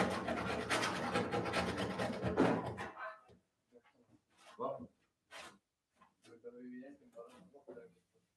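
Scraping on a part from a 1955 VW Beetle, a close, harsh, continuous rasp for about three seconds that then stops, followed by short bursts of talking.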